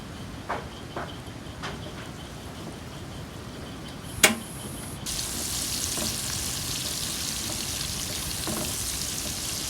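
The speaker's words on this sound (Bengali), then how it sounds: "পেঁয়াজকে এভাবে বাদামি করে ভেজে নেব।" Sliced onions frying in a pan for a koi fish and water lily curry, a steady soft sizzle building after a sharp clatter midway, close and continuous with no talk.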